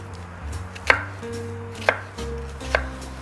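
Knife makes thin slices across an onion on a cutting board: three crisp, evenly spaced chops close by, with quiet kitchen hum between them.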